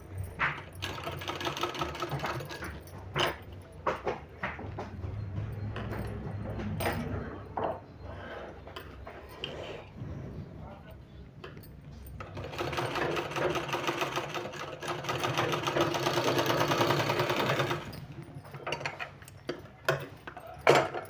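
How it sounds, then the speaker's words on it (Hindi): Sewing machine stitching a fabric sleeve, running in long steady bursts with brief stops and clicks between, the longest run in the second half, close and moderately loud. "दोनों साइड इसी तरह से हमको सिलाई लगा देना है।"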